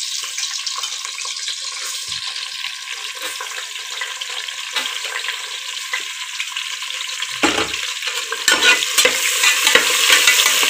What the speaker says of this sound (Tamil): அது நல்லா வதங்கினதும் நம்ம இப்போது இதில் வெங்காயத்தை சேர்த்துப்போம்.